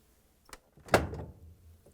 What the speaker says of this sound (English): and remove the door.